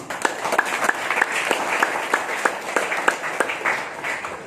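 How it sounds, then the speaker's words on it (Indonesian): An audience claps together at a gathering, a moderately loud wash of applause with distinct, regular sharper claps punctuating it at a quick steady rhythm. "Dan tepuk tangan untuk semuanya"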